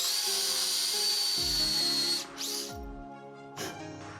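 An electric drill with a 6.5 mm bit bores mounting holes for a rail on a large CNC router frame, a steady high whine that drops and changes pitch as the bit bites, then stops and restarts briefly.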